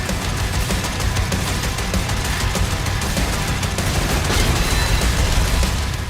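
Dense, relentless weapon fire from the Doom: The Dark Ages first-person shooter, a loud continuous barrage of overlapping shots and blasts with no pauses.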